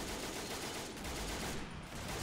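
Sustained Vickers machine gun fire from bunkers on a beach in a World War II invasion video game, a dense continuous roar of distant gunfire and battle noise with no clear gaps.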